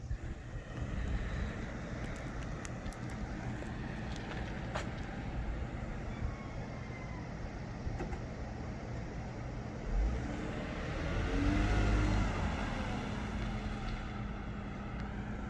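A 2001 Lexus IS300 sedan drives along to test freshly replaced brake pads, giving a steady low road and engine rumble with wind noise and a brief swell near the end, heard from inside the car.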